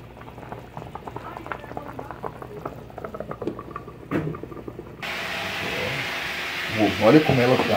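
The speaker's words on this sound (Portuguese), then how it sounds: "Tá fervendo já, quase pronto." A pot of Amazonian fish stew bubbles and simmers steadily at close range, a busy liquid burble that grows louder and more agitated toward the end.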